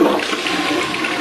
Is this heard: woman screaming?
no